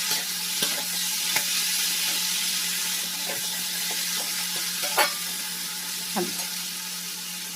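Spices and whisked yogurt being sautéed in a pan for vegetarian jackfruit biryani, a constant bright sizzle with occasional light spoon scrapes and taps.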